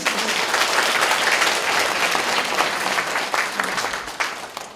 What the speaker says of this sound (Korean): 동의하시면 박수 한번 주시죠